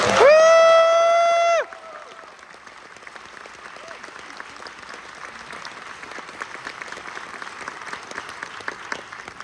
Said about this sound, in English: So let's give Toho a round of applause for showing us.